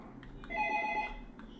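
An intercom phone in a Roblox building rings once with a steady electronic tone, faint and alone, fading after about half a second.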